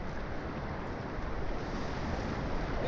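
Sea waves at a shore where babies swim, a constant rushing wash of surf mixed with wind noise, close and steady, with no voices heard.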